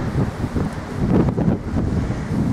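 Wind gusting during an outdoor hike between Tsukigaseguchi and Iga, a continuous rough roar buffeting the microphone with swelling and easing surges, loud and close, no voices.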